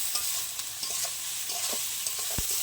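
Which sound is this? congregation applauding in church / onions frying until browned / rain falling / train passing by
onions frying until browned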